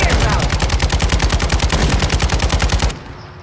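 Rapid automatic gunfire in the video game Call of Duty, a loud, evenly spaced burst of roughly two dozen shots that stops abruptly near the end, leaving quiet.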